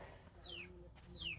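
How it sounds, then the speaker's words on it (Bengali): Chickens wandering inside a home and pecking at rice, two short high descending chirpy calls about a second apart, faint against a quiet indoor background. "মুরগি ঢুকে তাদের ভাত খেয়ে ফেলছে"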